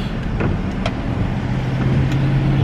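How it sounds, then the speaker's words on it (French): A car rolls along a road as it merges onto an expressway, giving a steady, close drone of engine hum and tyre and road noise with a low tone that firms up toward the end. "Oh, une voiture qui avance."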